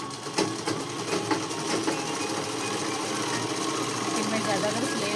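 Sewing machine stitching a canvas interlining onto dress fabric, a steady dense mechanical whir running continuously throughout, close and fairly loud.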